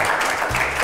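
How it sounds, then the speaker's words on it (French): A brief wash of dense clapping from a crowd, steady and moderately loud throughout. "J'aimerais qu'on applaudisse encore une fois pour Eliane."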